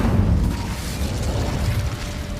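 Incendio fire spell in Hogwarts Legacy, cast during a Halloween visit to Hogsmeade: a dense, low rumbling whoosh of fire that holds steady at close range, loudest at the very start, then settles into a continuous roar.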